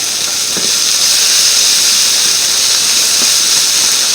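Boudin sausage sizzling in a hot pan with onion and apples, a loud, dense, continuous hiss close up, with a couple of faint soft knocks and no voices.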